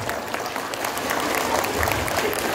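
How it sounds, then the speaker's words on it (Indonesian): Audience applause at a national literacy tour event in Singkawang, a steady wash of clapping from a sizable crowd, fairly even in loudness throughout, with no one speaking over it. "Oke, tepuk tangan semuanya ikhlas."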